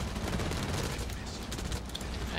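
A burst-fire submachine gun in the shooter game Blacklight Retribution fires rapid overlapping bursts, loud and dense with crackling gunfire and game effects through the whole moment.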